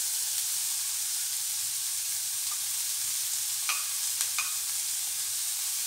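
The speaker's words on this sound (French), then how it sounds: "je fais revenir les oignons. Je vais rajouter la gousse d'ail" Onions sautéing in a pan with a garlic clove added, a steady close sizzle of frying with a few brief stirring scrapes and clicks near the end.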